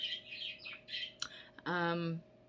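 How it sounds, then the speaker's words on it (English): Pet birds chirp and squawk indoors, a few close, bright calls that end in a harsh, buzzy squawk, with a low background hum and some talk alongside. "You probably hear my birds."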